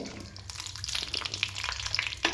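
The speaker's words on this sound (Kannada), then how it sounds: "ಬಾದಾಮಿನ ಗೋಡಂಬಿಯನ್ನು ತುಪ್ಪದಲ್ಲಿ ಹಾಕಿ ರೋಸ್ಟ್ ಮಾಡುತ್ತಿದ್ದಾರೆ" Almonds and cashews roasting in ghee for sabudana payasa, a steady close sizzle with crackling pops and a few stirring scrapes, no voices.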